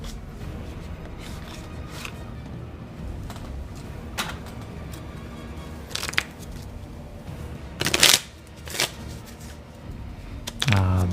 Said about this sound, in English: the physically picking up, shuffling cards, rolling dice